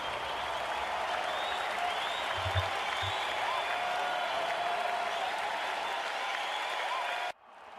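Simulated crowd applause fills a cricket video game's IPL match between RCB and KKR, a steady, dense roar of clapping that runs evenly, then cuts off abruptly near the end.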